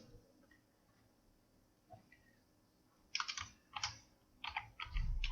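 Typing on a computer keyboard while working in an Excel spreadsheet: a faint lone tap, then bursts of crisp close key clicks over a low room hum.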